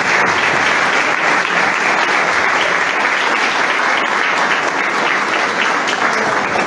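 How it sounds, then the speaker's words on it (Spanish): Loud, dense applause from a crowd at a political gathering for a comrade, a thick wall of clapping that stays constant from start to finish. "Un aplauso para tu compañero después."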